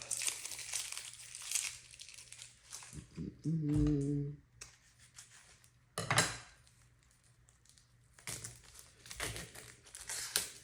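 Dry papery onion skin being peeled and crinkled off a store-bought onion in a kitchen, several close crackling bursts with brief pauses and a short clink of a dish midway.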